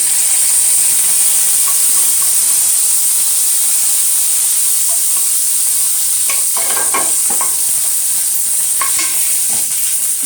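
Mustard seeds and curry leaves sizzle loudly in hot oil, a dense continuous hiss with scattered small pops and crackles, no voices.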